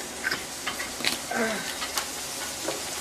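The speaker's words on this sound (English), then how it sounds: "Oh, you hear that sizzle? They cooking burgers in the background." Soft, steady hiss and crackle of burgers sizzling on a grill in the background, faint under a quiet room with occasional light clinks.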